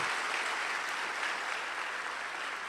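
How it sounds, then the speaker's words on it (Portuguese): A church congregation applauds visitors steadily, a dense wash of many hands clapping at once, continuous and even from start to finish. "Uma salva de palmas para os nossos visitantes."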